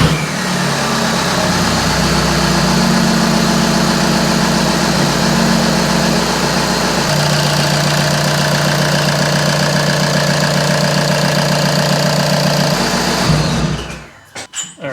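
A VW Golf/Jetta TDI diesel from 2009–2014 runs close and loud at a steady idle with an even clatter, then shuts off near the end, and no one speaks.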